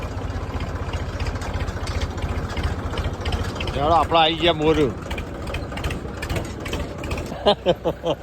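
A farm tractor's engine runs at a steady idle with an even low throb, while a person talks and laughs close by over the engine.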